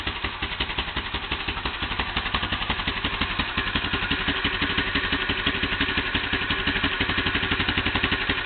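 Small engine of a Yamaha Big Bear ATV idling steadily and close by, a rapid, even putter with slight clatter and a carburetor in need of cleaning, running alone without talk throughout.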